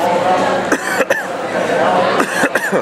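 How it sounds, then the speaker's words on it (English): A person coughs several times in short, sharp bursts close to the microphone, with a brief vocal sound between the coughs. "Did I mention I've got a sore throat and a bad cough?"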